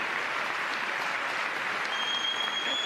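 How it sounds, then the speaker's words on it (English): People at the back of an audience clap in a steady wash of applause, moderately distant and even throughout, with a faint tonal whine appearing near the end. "they got some people in the back clapping back there"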